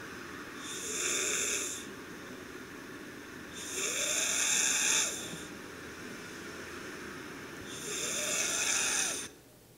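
A sleeping child snores without apnea, three long snoring breaths about two seconds each, evenly spaced and fairly loud against a quiet background.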